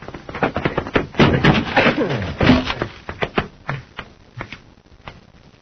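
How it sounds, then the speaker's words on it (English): A door is forced open with a burst of thuds, scrapes and cracking wood, followed by a string of separate knocks and clunks that fade into quieter taps, with voices briefly under the noise, as in an old radio drama. "Force the door, Hap."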